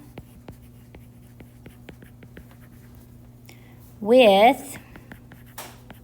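Pen strokes writing out a fraction by hand, soft scattered scratches and taps in an even rhythm, close and faint, with a brief spoken word partway through.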